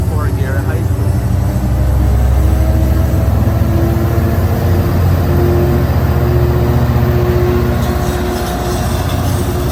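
An Amtrak Capitol Corridor train pulled by an F59PHI locomotive leaves Fremont Centerville station with a loud, steady rumble of engine and rolling wagons that stays close throughout.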